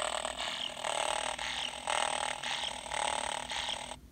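An electronic toy purr pulses in a steady rhythm, about five rasping, buzzy swells in a row, close and fairly quiet.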